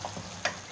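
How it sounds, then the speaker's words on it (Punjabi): Crushed red chili and turmeric masala fries in a pan for stuffed tinda, giving a soft, quiet sizzle over about a second, with one sharper stir or scrape near the middle. "ਇਹ ਮਸਾਲੇ ਅਸੀਂ ਇਹਦੇ ਸ਼ਾਮਿਲ ਕਰਕੇ ਇਹਨਾਂ ਨੂੰ ਅੱਛੀ ਤਰ੍ਹਾਂ ਫਰਾਈ ਕਰਨੇ ਆ"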